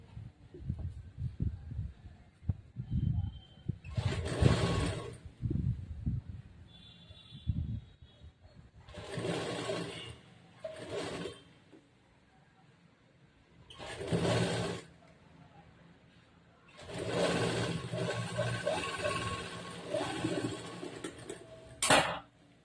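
An electric sewing machine stitching frills onto a blouse runs in several short whirring bursts and then one longer run, with quiet pauses for adjusting the fabric and a few soft knocks near the start.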